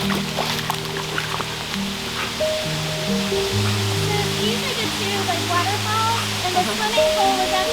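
A waterfall on an Ozarks homestead property in Arkansas rushes steadily as a constant broadband roar, with a person speaking and humming over it throughout.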